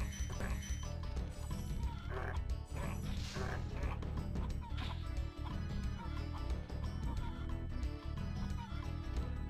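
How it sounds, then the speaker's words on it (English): Game audio from Spyro the Dragon with chickens clucking amid busy music and clattering effects, the fowl calls mixed into a dense, constant soundtrack rather than standing alone. "I know why there are so many chickens here"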